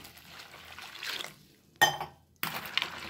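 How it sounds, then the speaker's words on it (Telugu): Dried fish being washed in a bowl of water, close splashing and swishing with a short clink against the bowl, broken by a brief pause. "ఇక కాస్త చల్లారిన తర్వాత మనము ఒక బౌల్లో వేసేసుకొని ఇక శుభ్రంగా కడిగేసుకోవాలన్నమాట."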